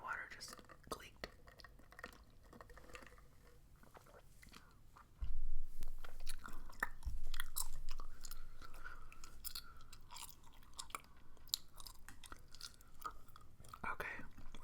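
Gum chewing up close for ASMR: soft, wet smacks and clicks of the mouth repeating throughout, partly under quiet, close-miked talking, with a brief louder bump midway.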